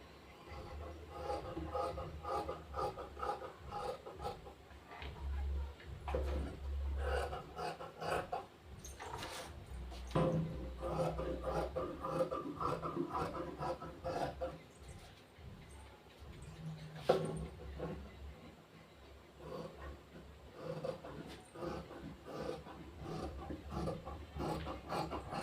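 Scissors cut through blouse fabric at a table, a long run of soft rasping snips and rubbing strokes with short pauses and a few faint knocks.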